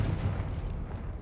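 Confringo blasting spell from the Hogwarts Legacy video game, a loud low rumbling explosion boom that fills the moment with dense sustained roar, no talk over it.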